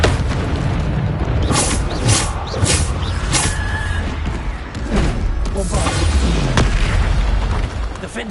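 The Bombarda explosion spell in the video game Hogwarts Legacy bursts repeatedly, with heavy booming blasts and rumbling impacts amid constant battle noise, loud and dense throughout.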